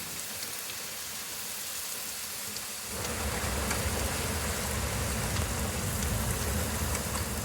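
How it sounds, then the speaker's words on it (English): A violent rainstorm breaks during a long-distance journey from Oradea toward Kraków: a soft background hiss swells abruptly after about three seconds into a heavy, steady roar of downpour, loud and continuous with no voices. "Within minutes of us returning to our accommodation, a pretty violent storm broke."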